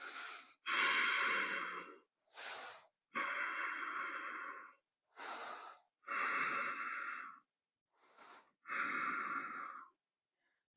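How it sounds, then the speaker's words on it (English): Slow, deep breathing in a Darth Vader style during a core-strength exercise, with about five long, loud breaths that each pair an inhale and an exhale in a steady rhythm, close to the microphone, and no talking. "How's that Darth Vader breath?"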